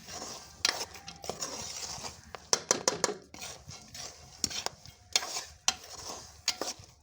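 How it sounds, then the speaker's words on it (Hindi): Corn kernels roast in a pan over an open fire, with a utensil stirring and scraping in quiet, irregular clinks and scrapes close by, alone without talk. "ये आग जल रही है बड़ी अच्छी तरह से और इस पे बना रहे हैं हम मकई के दाने"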